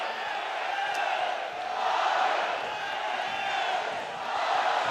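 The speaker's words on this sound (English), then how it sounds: "Crowd making some noise for the first time in a long time." College baseball stadium crowd of nearly 7,900 cheering at a Texas versus UC Santa Barbara game, a broad, distant-sounding roar that swells and dips steadily, with faint talk underneath.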